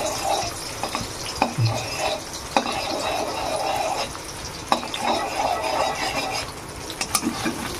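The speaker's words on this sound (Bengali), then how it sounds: "এবার ডিম দুটো প্রথমে ভেজে নেব।" Eggs frying in oil in a pan for an okra and egg dish, with soft sizzling and occasional utensil clinks and stirring scrapes, steady and close.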